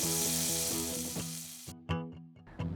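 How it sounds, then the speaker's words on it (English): Pounded, breaded and buttered abalone dropped into a hot skillet, a bright, dense sizzle that fades slightly and then gives way to a few sharp crackles and pops, close and alone. "and then we throw them in the skillet."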